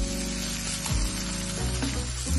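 A leftover-rice uttapam sizzles steadily on a hot pan, a soft scrape and thump marking the flip partway through, with the frying hiss continuing close and even throughout.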